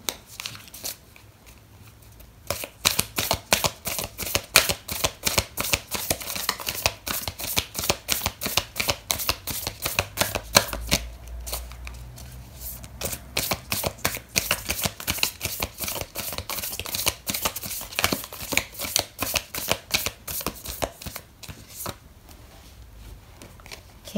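Tarot and oracle cards shuffled continuously in rapid riffling bursts for about twenty seconds, a dense papery flutter that pauses briefly midway, close and fairly loud with no talking.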